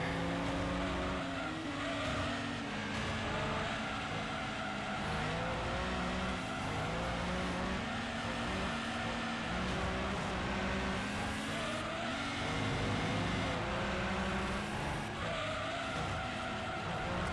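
A race car from Gran Turismo 2 is driven hard with its engine droning steadily at high revs and tyres squealing through corners, continuous and loud without any talking.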